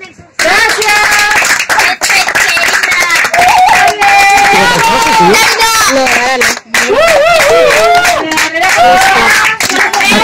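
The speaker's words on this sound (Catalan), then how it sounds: "Un aplaudiment." Schoolchildren at a theatre workshop in a Catalan school in Sabadell clap in a dense, close burst of applause mixed with excited chatter and laughter that fills the room.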